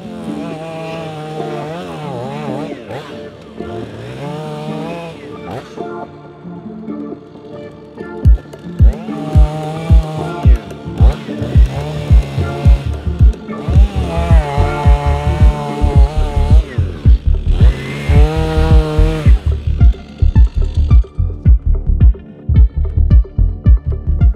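A chainsaw cutting through tree roots before felling, loud and close, revving up and down in repeated bursts and then biting in with a harsh rasping roar.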